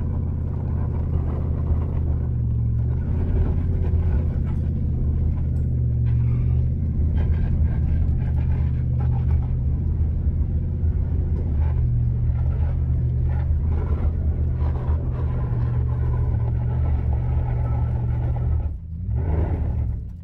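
A two-wheel drive truck towing a boat trailer up a steep hill, its engine a steady, loud, low rumble that labours on without a break for the whole stretch, with no talking.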